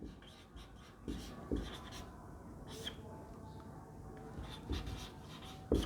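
Chalk or marker writing on a board during a lecture on the Indian constitution, scattered scratchy strokes and sharp taps at intervals, close, with faint background voice.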